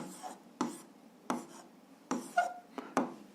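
Pen writing a linear function on paper during a 7th-grade algebra exercise: a handful of short, close scratchy strokes and taps spaced irregularly, faint and alone.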